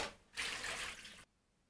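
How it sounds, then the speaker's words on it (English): Warm water pours into a mixing bowl for bread dough, a steady, soft splashing rush that lasts about a second and then cuts off abruptly into quiet. "I need 450 grams of warm water."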